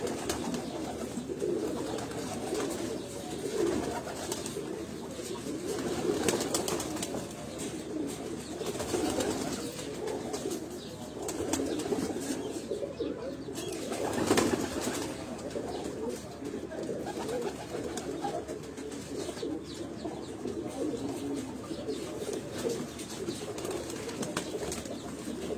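Pearl pigeons coo softly on a rooftop, low repeated calls rising and falling over faint background noise, with occasional wing flutters and a little distant voice.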